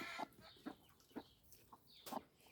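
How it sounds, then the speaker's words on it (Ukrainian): A broody hen clucks outdoors, about five short, spaced clucks in an uneven rhythm, fairly faint and with no voices over them. "квочка вийшла погуляти"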